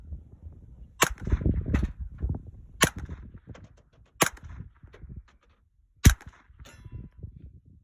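Four sharp, loud cracks a second or two apart from a Chiappa M1-22 .22 rifle, each with a faint metallic ping of a target hit, over rustling outdoor background noise.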